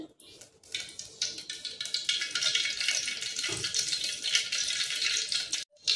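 Oil heating in a cooking pot for a Malvani chicken curry, a steady bright sizzle and crackle that holds close and fairly loud for several seconds before a brief drop near the end.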